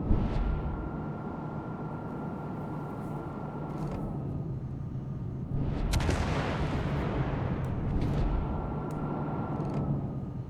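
Warship guns firing in a naval battle game, a cruiser's booming salvo erupting mid-clip over a steady rumbling ambience and a sustained tone, with faint sharper reports before and after.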